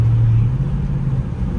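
Dodge Scat Pack engine rumbling while driving, a deep steady drone heard from inside the car with a low tone that eases off partway through, no talking.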